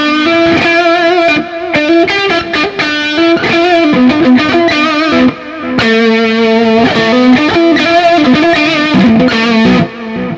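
Distorted electric guitar played on the front (neck) pickup of an Ibanez RG3120DR through Guitar Rig 5 distortion, a loud, sustained run of chords and lead phrases that fills the clip without pause, with no talking.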